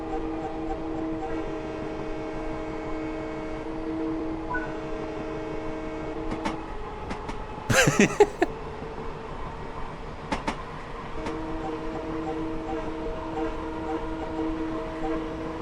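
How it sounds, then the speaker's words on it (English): A steady, sustained train horn in Train Sim World VR: New York blares over a constant low rumble of rolling rail wheels, with a few sharp clanks and squeals midway through. "sound the horn to warn them of your approach"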